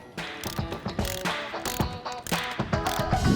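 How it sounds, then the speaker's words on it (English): A torque wrench ratchets on bolts while replacing the seat of a large Val-Matic butterfly valve, giving a quick series of close, sharp metallic clicks in an uneven rhythm. "with this torque wrench, what we're listening for is a click"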